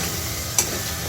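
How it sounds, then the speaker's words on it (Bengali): Onions sauté in a pan over medium heat for a Bengali shahi egg korma, a steady close sizzle with one quick stir or tap midway. "আর আঁচটা মিডিয়ামে রেখেই আমি পেঁয়াজটা কষাচ্ছি।"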